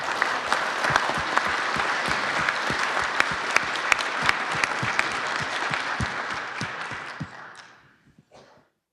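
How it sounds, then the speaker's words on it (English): An audience at a Kansas City startup pitch event gives a steady round of clapping, close and even for several seconds before thinning out and fading to silence. "Big round of applause"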